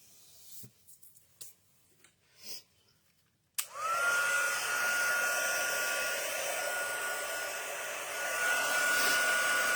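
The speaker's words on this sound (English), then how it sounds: "then we are ready to hit it with the heat tool" A heat tool switches on partway through and blows steadily with a loud, continuous whoosh and a thin whine, used to melt embossing powder on a handmade Christmas card after a few quiet taps and rustles.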